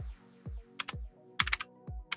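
Close keys on a gaming keyboard clack in quick bursts of typing, sharp clicks grouped between soft low thumps and short pauses, with no voices.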